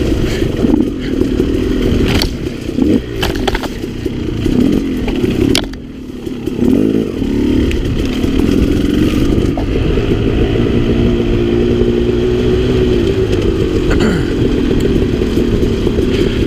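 Off-road riding on a 2015 KTM 300 XC two-stroke dirt bike kicking up dust, its engine buzzing and revving steadily and loud throughout with clattering and scraping mixed in.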